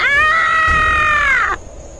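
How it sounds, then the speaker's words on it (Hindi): A woman in an animated horror story screams loudly, one long sustained high-pitched shriek that wavers slightly and cuts off abruptly after about a second and a half, followed by low background. "इतना सुनने के बाद ही वो जोरों से चिल्लाई।"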